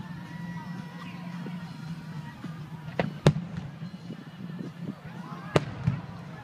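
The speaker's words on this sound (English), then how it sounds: "Like the fireworks?" Distant July 4 fireworks pop and crackle, with a couple of sharper bangs standing out over a steady murmur of people talking nearby at the Congress Hotel.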